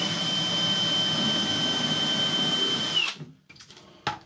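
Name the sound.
drill drilling a pilot hole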